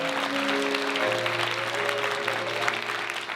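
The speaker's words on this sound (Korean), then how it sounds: "여러분 축하의 박수 부탁드리겠습니다." Wedding guests in a grand ballroom applaud the bride and groom, a continuous wash of clapping with sustained music tones beneath it.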